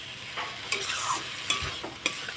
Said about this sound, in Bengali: এটা ভালোভাবে সবজির সাথে একটু মিশিয়ে নেব